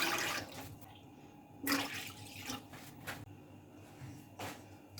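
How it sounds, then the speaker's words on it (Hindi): Three glasses of water are poured into a large pot being set up to steam a chicken roast, heard as soft, quiet splashing gushes in a couple of short bursts against a faint background hum. "यहाँ हमने एक बड़ा सा बर्तन लिया है, इसके अंदर हम 3 गिलास पानी ऐड कर देंगे।"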